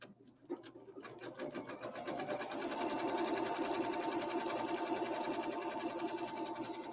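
A sewing machine set for satin stitching starts after a click and settles into a steady, fast mechanical whir with a rapid rhythmic needle chatter, close and even in volume, with no talking over it.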